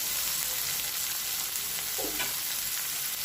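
Chopped onions, capsicum and green chillies fry in a pan for dry chicken Manchurian. A constant, dense sizzle runs throughout with a brief stir partway through, close and steady, with no talking.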